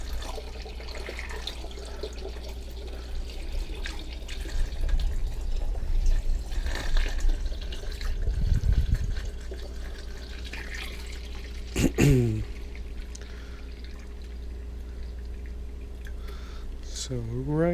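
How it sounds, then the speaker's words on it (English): Green phytoplankton culture is poured from one container into another, making a soft, continuous liquid trickle over a steady low background hum, with some bumps and clinks partway through. "I'm going to pour this half into here."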